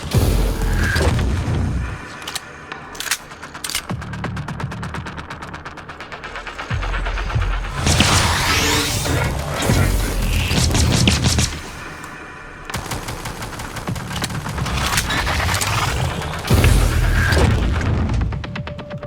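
Turret gunfire and explosions in the video game Prey, with repeated loud bursts, booms and rattling shots throughout, some heavy blasts standing out over continuous game noise.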